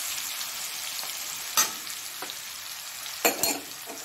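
Garlic and chili powder fry in a pan for fried rice, giving a steady, even sizzle throughout with a couple of sharper scraping stirs against the pan.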